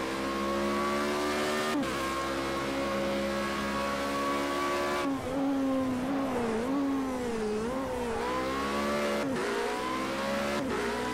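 A Formula Renault 3.5 race car in the video game Project CARS 2, with a high engine whine that rises and drops through gear shifts, sliding during a drift and climbing again, loud and close throughout.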